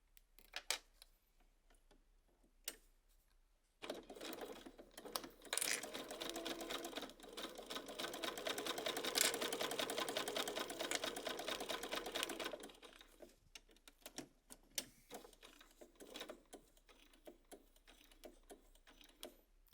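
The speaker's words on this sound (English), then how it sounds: "over here at my machine, I'm going to start sewing up here" Sewing machine stitching quilt block fabric in a steady, whirring run of about nine seconds. Quieter ticks and clicks come before and after it, and it sounds fairly close.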